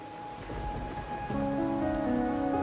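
Rain falls steadily in the Wuthering Waves video game, a soft continuous patter on surfaces that grows denser midway, alongside a faint tonal game ambience.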